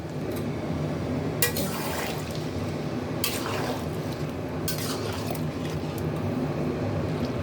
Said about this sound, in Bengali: আমি অল্প করে একটু জল দিয়ে দেবো যাতে প্রপার কুকড হয় চিকেনটা